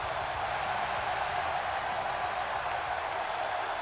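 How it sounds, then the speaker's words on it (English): A sold-out arena crowd at Madison Square Garden in the wrestling game WWE 2K18 gives a steady, dense roar of cheering that stays even throughout, with no clear voices. "A sold out crowd in Madison Square Garden."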